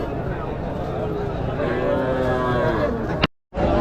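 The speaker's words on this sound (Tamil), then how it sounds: "ஸோ 2 சென மாடுங்க, சேம் மாடு கொண்டு வந்திருக்காங்க பாருங்கள்." Cattle low at the open-air Matrapalli cattle market, with a long, drawn-out moo rising over a busy background of crowd noise before the sound cuts off abruptly.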